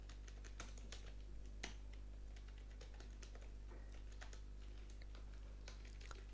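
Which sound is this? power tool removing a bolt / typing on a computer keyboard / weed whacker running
typing on a computer keyboard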